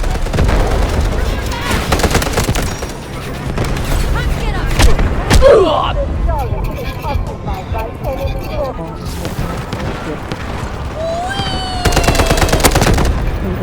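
Repeated automatic AKS rifle fire in the shooter game Delta Force, loud bursts of rapid shots spread across the stretch with short pauses between volleys, under excited talk and game sounds.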